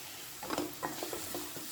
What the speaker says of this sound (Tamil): அதனால் கேரட்டையும் போட்டு விட்டு நல்லா வதக்கி விட்டுக்கிடுங்க.